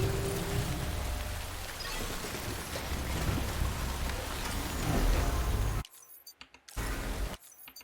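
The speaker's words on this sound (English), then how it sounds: "Still raining." Steady heavy rain in the game Death Stranding, a dense hiss that fills the scene for several seconds before cutting out abruptly into near silence, then briefly returning.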